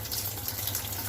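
Water gushes steadily from the inlet into a washing machine tub, a close, continuous hissing rush after a blocked inlet filter has been cleaned.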